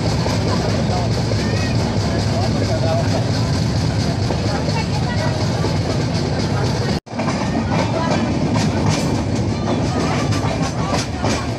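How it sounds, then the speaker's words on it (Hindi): Steady rumble and rattle of a train rolling along the rails into Dharmabad railway station platform 1, continuous and fairly loud, with a brief dropout midway; voices murmur faintly underneath. "फाइनली हमारी ट्रेन धर्मावत रेलवे स्टेशन के प्लेटफॉर्म नंबर 1 पर आ चुकी थी"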